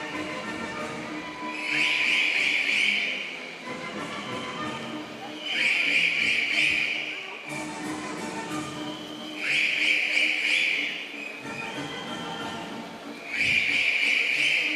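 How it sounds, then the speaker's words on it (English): Crowds of spectators at the Six Day Berlin track cycling race blow shrill whistles in four loud bursts spaced a few seconds apart, over a steady arena murmur. "So we can hear the whistles."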